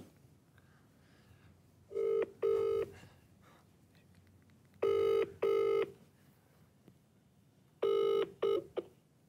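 A phone call rings through toward voicemail, with three bursts of double rings spaced evenly apart over a quiet, faintly hissy background.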